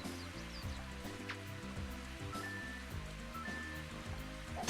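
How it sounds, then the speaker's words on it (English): Steady rain hiss in the Mario Golf video game, spread evenly beneath looping game music with melodic tones throughout. "it's raining again"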